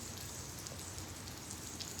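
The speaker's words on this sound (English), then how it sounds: "Do you hear the rain?" Rain falling outdoors at a park, a dense, even patter and hiss of drops on surfaces, steady and moderately loud throughout with no voices.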